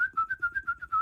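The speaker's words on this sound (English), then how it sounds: "Whistling is so inane to me." A person whistles a short tune, a run of clear, close, steady notes in a bouncy rhythm, with no talk.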